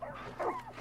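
One brief whine from a dog in the video game Far Cry 5, faint and rising then falling.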